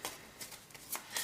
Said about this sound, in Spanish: Tendremos que barajar las cartas de